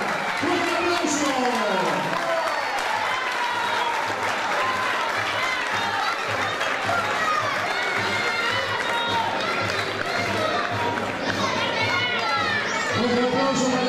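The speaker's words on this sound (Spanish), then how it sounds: "Nos despedimos ambos con un aplauso, vamos." Audience applause after a unanimous points decision at a boxing event, a broad, steady wash of clapping and crowd noise that continues throughout, with scattered voices and excited shouts mixed in.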